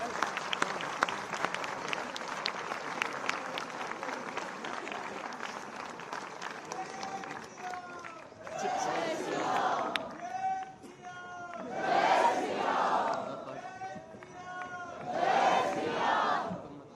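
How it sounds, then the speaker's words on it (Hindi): A large youth crowd at a National Youth Day event claps loudly to welcome the young chief minister, Pushkar Singh Dhami, with waves of applause and cheering swelling and fading under an announcer's voice. "मेरा निवेदन सभी युवाओं से एक बार अपने स्थान पे खड़े होकर जोरदार तालियों से स्वागत करेंगे"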